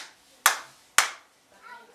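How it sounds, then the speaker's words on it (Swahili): Two sharp, close hand claps about half a second apart, each ringing briefly in a reverberant church hall, followed by a faint murmur of voices. "watu wanapiga makofi."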